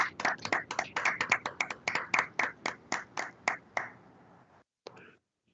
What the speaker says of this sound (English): ask my colleagues to please unmute their microphones so we can give you a hearty round of applause